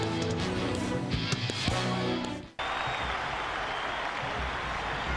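A football stadium crowd of over 100,000 in Columbus, Ohio, on an overcast day gives a broad, steady roar and cheering that cuts abruptly into a continuous wash of crowd noise.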